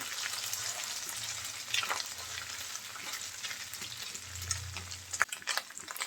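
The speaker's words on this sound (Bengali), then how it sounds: "একটু লালচে করে ভেজে নেব মাছটা" Pangas fish frying in oil in a pan, a steady, close crackling sizzle with occasional louder pops and light scraping as the pieces are stirred.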